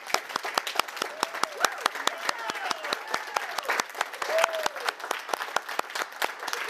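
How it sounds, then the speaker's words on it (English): A live podcast audience at a physical therapy clinic event breaks into steady applause, many hands clapping densely and evenly, with faint voices and a few whoops scattered over it. "So give them a round of applause."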